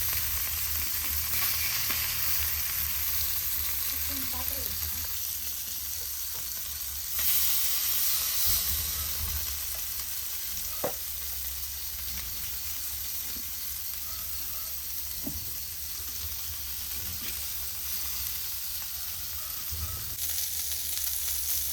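Boneless boothai fish fries in a pan with a constant, even sizzle and hiss, joined now and then by faint stirring clinks, for a long unbroken stretch.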